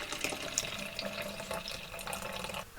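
Raspberry sour beer pours from a can into a glass, a steady liquid trickle and splash heard up close and alone, ending with a brief louder clink.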